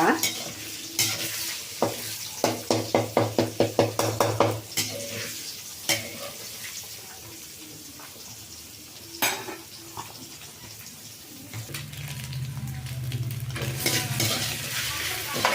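Egg fried rice sizzles and fries in a pan while a spoon or spatula stirs it, with a quick burst of scraping strokes early on, scattered clinks, and a louder steady sizzle building near the end; no one speaks.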